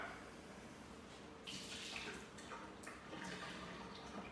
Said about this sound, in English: I'm going to go ahead and dump the water out